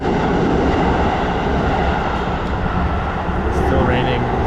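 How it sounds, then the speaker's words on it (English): Two trains roll past in steady rain in Japan, heard from shelter under a tree. A loud, continuous rumble of wheels and rain fills the whole stretch without a break. "Hiding under this tree while this 2 trains pass."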